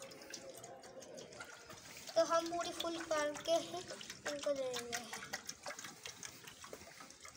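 Hot water from a home geyser poured into a container, a close gurgling, splashing fill with rising pitch, partly under someone talking.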